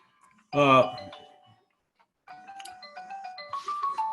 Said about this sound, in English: sorry, my phone is just rang